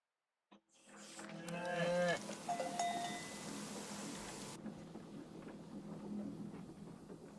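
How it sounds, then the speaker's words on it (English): Cows in a video game moo loudly right after a brief moment of silence, with cowbells clanking among them, then fade into a low, continuous rumbling ambience. "Farmer Layton's cows."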